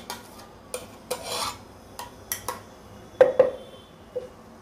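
Coconut smoothie batter scraped out of a mixer jar into a pot, with a few soft rasping scrapes and light clinks of a spoon against the jar, spaced irregularly and close by.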